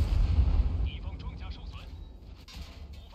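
A tank ammo rack detonates in World of Tanks, a heavy low boom opening the clip and rumbling away as a voice talks over the fading blast.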